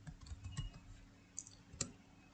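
A computer keyboard is typed on in a quiet room, a few soft, sparse key clicks with one or two sharper taps near the end, faint and close, with no talking.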